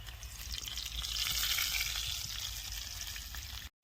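Grated coconut and onion sautéing in a pan, a continuous crackling sizzle that swells in the middle and eases off before a brief cut near the end.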